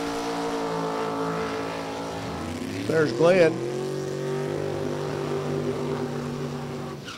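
Drag race cars in Top Sportsman qualifying at National Trail Raceway, including a 1969 Camaro-bodied car, firing up with a steady engine drone and a brief sharp rev burst midway, under a track announcer's commentary.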